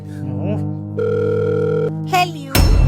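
A telephone rings with a steady sustained tone and a brief break, mixed with voices and music in a Hindi comedy scene before a loud burst at the end.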